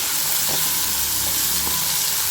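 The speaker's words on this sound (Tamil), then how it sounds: "இப்போ பாருங்க வெங்காயம் நல்லா வதங்கிக்கிட்டு இருக்குது" Steady sizzling of onions frying in a hot pan for prawn gravy, a continuous crackling hiss with a few soft stirring scrapes, close and fairly loud.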